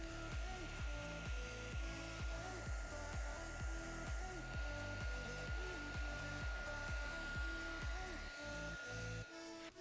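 A heat gun runs steadily with a close, constant whoosh and hum for nearly the whole stretch, melting embossing powder on a stamped greeting card, its tone pulsing slightly as the gun moves and cutting off near the end.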